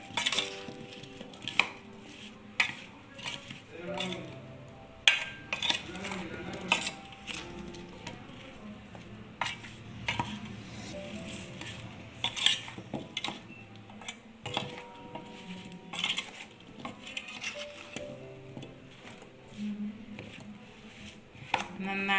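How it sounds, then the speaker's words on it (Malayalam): Mango pickle being stirred in a pan, with repeated scraping and clinking of a spoon against the metal in an uneven rhythm, under intermittent talk. "നന്നായിട്ടൊന്ന് ഇളക്കി കൊടുക്കാം"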